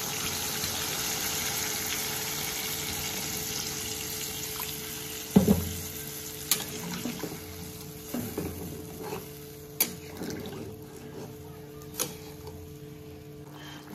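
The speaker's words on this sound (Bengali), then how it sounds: "তো আমি এখন জল দিয়ে দিচ্ছি।" Water poured into a sautéed katla fish curry brings a steady, close sizzle and bubbling boil over a faint background hum, broken by a few sharp clinks and knocks in the second half.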